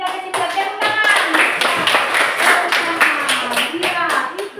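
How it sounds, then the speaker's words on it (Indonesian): Hands clapping in an Indonesian classroom, a steady run of quick, fairly loud claps over several seconds while voices talk and call out throughout. "Tepuk tangan."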